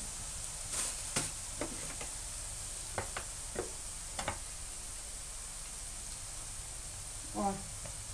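Ground chili being added to Pakistani achari dal gosht as it fries in a pan, heard as a steady hiss of sizzling oil with a few faint clicks and stirring scrapes scattered across it.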